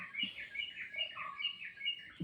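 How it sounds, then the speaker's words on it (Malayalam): Birds chirp and call in a quick series of bright, high tweets, fairly faint and steady throughout with no talking. "പക്ഷികളെ സൗണ്ടാണ്"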